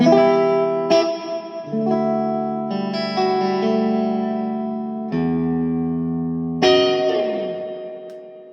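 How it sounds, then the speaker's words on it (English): Electric guitar through a Vox AC30S1 amp, a series of sustained chords and single-note phrases with a few sharp attacks, ringing out loud and close with a slightly effected, spacious tone. "Just some guitar noises."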